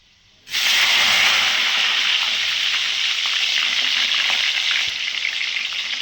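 Cut eggplant drops into hot oil and sets off a sudden loud sizzle that holds as a steady, close hiss for several seconds in a home kitchen while making eggplant curry.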